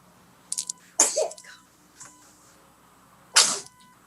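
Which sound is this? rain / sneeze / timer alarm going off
sneeze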